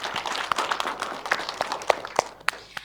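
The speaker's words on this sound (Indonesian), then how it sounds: "Boleh tepuk tangan kembali?" Studio audience at a televised dialogue forum applauding, a steady wash of many hands clapping with scattered sharper claps standing out, moderately loud and continuous throughout, with no talking over it.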